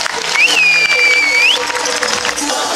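Crowd applause fills an outdoor university amphitheatre at a live show, a dense, loud wash of clapping joined by a sustained whistle and cheering, with voices around it.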